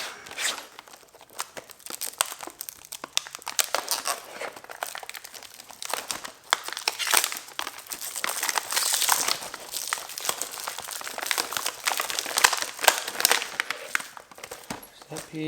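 Packaging for a motorcycle fender eliminator kit for a KTM Duke 390 being torn open and handled up close, with continuous crinkling, ripping and rustling of plastic and paper in irregular bursts.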